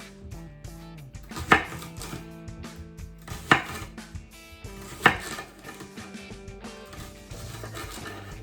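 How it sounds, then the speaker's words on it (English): Cucumbers being chopped with a knife that needs sharpening, steady rhythmic knocks on a board with three louder sharp strikes spaced a couple of seconds apart, close and clear with no talking. "I guess we just chop these up"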